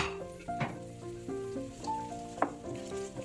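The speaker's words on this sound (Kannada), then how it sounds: "ಮೊದಲಿಗೆ ಒಂದು ಫ್ರೈ ಪ್ಯಾನ್ನಲ್ಲಿ ಸ್ವಲ್ಪ ಎಣ್ಣೆ ಹಾಕಿ ಈರುಳ್ಳಿಯನ್ನು ಹಾಕಬೇಕು." Onions frying in a little oil in a frying pan give a steady close sizzle, with clinking stirs and a few sharper pops cutting through.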